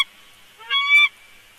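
Geese honk in a short burst of bright, nasal calls, one louder honk standing out over a steady background of other bird chatter, with no talking.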